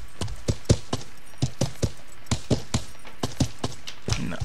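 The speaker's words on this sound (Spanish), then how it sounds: "Nos subimos al caballo ya." A horse ridden in the medieval MMO game Life is Feudal gives a regular run of crisp, close clip-clop hoofbeats, about a dozen steps at an even walking rhythm, with no talking.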